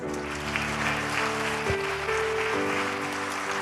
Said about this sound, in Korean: 그 하나님의 사람에게 박수 좀 쳐주세요.